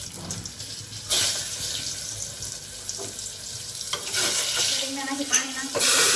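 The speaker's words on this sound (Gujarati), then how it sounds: "સૌપ્રથમ આપણે થોડીક રાઈ અંદર એડ કરીશું, થોડું જીરું એડ કરીશું, ત્યારબાદ હિંગ નાખીશું," Mustard seeds, cumin and asafoetida crackle and sizzle in hot oil in a pan, with sharp bursts as each spice goes in over a steady frying hiss, close by and without speech.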